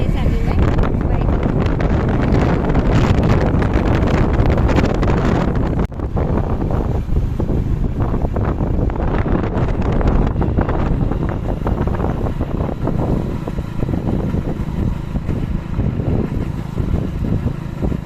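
A motorbike rides along with a steady engine drone and heavy wind buffeting the microphone throughout, with a brief dip near six seconds, on the way to a Monday weekly market.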